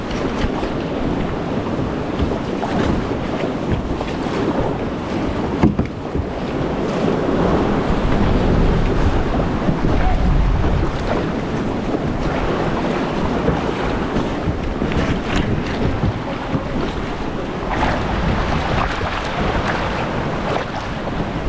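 Choppy sea water washes and slaps steadily around a kayak near Ponta da Piedade's cliffs and caves in Lagos, Portugal, loud and close for the whole stretch, with gusty wind buffeting the microphone and no talk.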